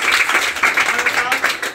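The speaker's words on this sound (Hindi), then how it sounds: "ताली मार दो इसके लिए।" Students and teachers clapping for a pupil's Class 10 matric exam result in a classroom: a brief burst of dense, close applause with irregular hand claps, lasting under two seconds.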